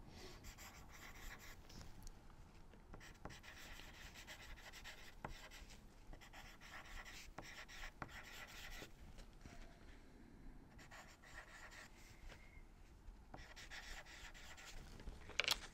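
Pen tip scratching across a card as a white Stabilo pen writes, a soft continuous close scraping with faint irregular strokes throughout, no talking.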